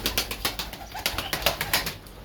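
Pigeons in a loft, including white beaded birds of an original plain-crested breed, give soft coos amid repeated bursts of wing flapping, with close, rhythmic flutters running steadily throughout.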